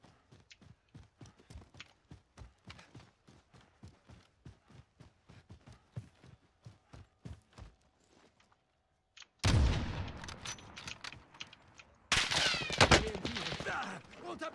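Call of Duty: Warzone match: a long run of evenly spaced single footstep-like thuds, then silence, then sudden loud bursts of close gunfire with heavy impacts.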